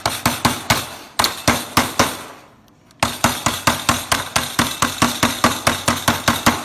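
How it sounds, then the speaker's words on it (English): A hammer strikes bent queen excluder wire in quick, regular sharp blows, loud and close, with a brief pause before the rhythmic hammering resumes. "hammer it over"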